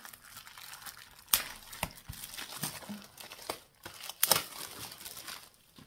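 A package is opened and its contents unwrapped, giving close crinkling and crumpling of paper and plastic with a few sharp tearing snaps scattered through the handling.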